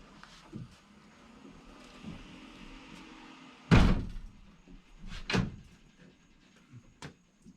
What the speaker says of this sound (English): I'm really scared to close this door